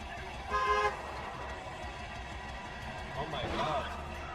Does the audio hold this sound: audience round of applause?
no